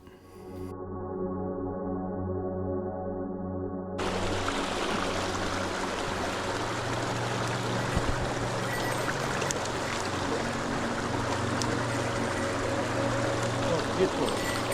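A mountain stream in Hokkaido, Japan, holding native Dolly Varden trout, rushes steadily and close by. A low engine-like hum sits under the opening seconds before the full broadband water noise takes over.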